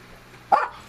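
A dog gives a single sharp bark, close and loud, over a quiet hum near an aeroponics setup.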